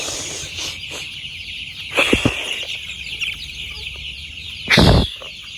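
Young layer chicks crowded together on a poultry farm cheep and flutter in a steady busy chorus, with brief louder bursts of wing flapping and scrambling near the start and again toward the end.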